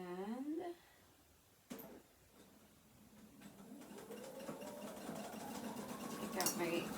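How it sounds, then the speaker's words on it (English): A sewing machine stitches a curved seam on a pair of pants, with backstitching at the start and end; its motor hum rises steadily in pitch and grows louder over several seconds after a brief clack and a short pause. "I'm going to back stitch at the beginning and end of that curve when I start and when I finish."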